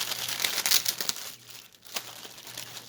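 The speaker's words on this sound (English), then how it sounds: "they always have their canvases in a separate plastic bag" A separate plastic bag holding a pre-stamped cross stitch canvas crinkles up close in quick bursts, pauses briefly, then rustles again softly.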